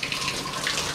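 Water from a Temptrol shower faucet pouring into a glass, a brief steady hiss and splash of running water.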